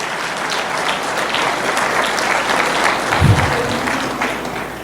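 A church congregation applauds during a sermon, a loud, continuous rush of clapping from a packed room that stays even throughout, with a brief low thump partway through.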